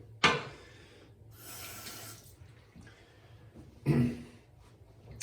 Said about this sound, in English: just dip it in a little bit of water